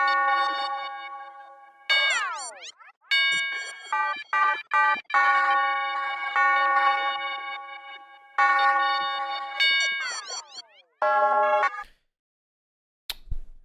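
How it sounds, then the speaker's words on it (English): A bright synth bell patch built in Serum plays a melodic phrase of sustained, ringing tones with pitch-bending slides and sudden stops, clean and alone with no voices. "And then the last thing I added was this bell."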